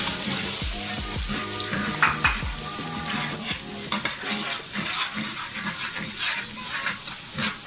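Chopped garlic sautéing in about four tablespoons of hot oil, a steady close sizzle with repeated scraping and stirring of a spoon against the pan, with no talk.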